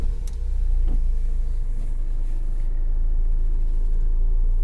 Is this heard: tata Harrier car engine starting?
yes